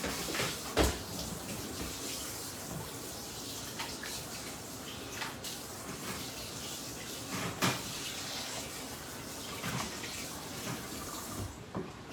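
Vacuum-packed beef for a Japanese beef curry being rinsed under a running kitchen tap, a steady close stream of water with a few knocks and clunks.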